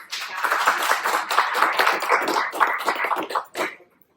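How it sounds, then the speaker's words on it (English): Audience applause at an evening design-industry mingle in a kitchen appliance showroom in Costa Mesa: a dense burst of clapping from a small-to-medium crowd, steady for about three seconds, then thinning and ending abruptly. "if we can all just give her a round of applause"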